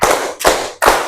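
A third-grade elementary class claps hands in unison, with three sharp, loud claps spaced evenly about 0.4 seconds apart in a classroom.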